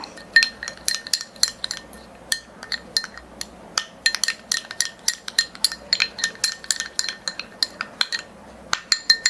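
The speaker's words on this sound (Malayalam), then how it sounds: "ഇത് രണ്ടും കൂടെ നല്ല രീതിയിൽ അങ്ങ് മിക്സ് ചെയ്യുക" Spoon clinks rapidly and steadily against a bowl while yogurt and instant coffee powder are mixed, a brisk run of sharp metallic taps close by with no talk.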